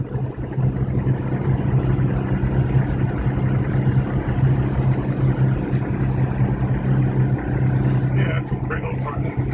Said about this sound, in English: That boxer engine is so smooth.